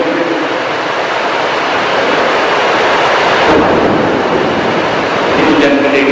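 Heavy rain pours in a steady, dense roar, loud and close throughout, with a faint rumble underneath and no pause in the downpour.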